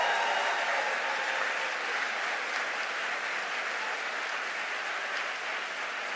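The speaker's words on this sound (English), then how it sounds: "Give them a big round of applause." Steady, dense audience applause at a presidential address to a national safer communities summit in Connecticut, sustained and even throughout with no talking over it.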